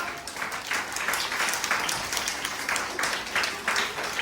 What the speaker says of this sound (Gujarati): તાળી પાડો બધાય.